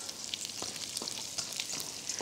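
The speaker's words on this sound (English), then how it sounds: "So I'm just sizzling it a bit." Sambal sizzles in a hot wok with a crisp, crackling fry, alone and fairly close, with a few louder spits and stirring bursts.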